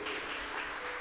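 Church congregation applauding during a Portuguese-language sermon, a steady broadband wash of many hands clapping at moderate level throughout, with no voices over it.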